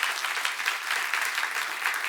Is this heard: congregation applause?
yes